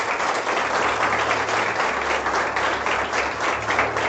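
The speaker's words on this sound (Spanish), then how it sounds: "Dale un aplauso al Señor por la vida." A church congregation bursts into loud, dense applause, a thick continuous roar of many hands clapping together at close range.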